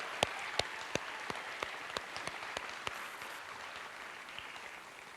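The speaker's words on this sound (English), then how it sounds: "So let's give them one more round of applause." Audience at an adult education commencement ceremony for the Class of 2013 applauding graduates: soft, diffuse clapping from a hall crowd, with a few sharper individual claps standing out near the start, fading slightly toward the end.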